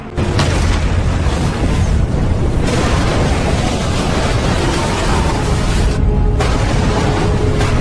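A massive explosion roars on as a sustained, loud rumbling blast, dense and continuous for several seconds.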